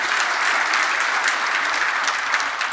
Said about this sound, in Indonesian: Kita tepuk tangan untuk kebenaran ini.